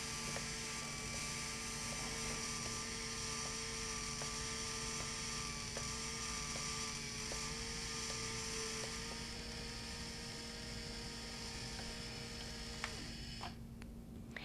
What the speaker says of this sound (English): press the run buttons at the same time to wind your bias tape onto the winder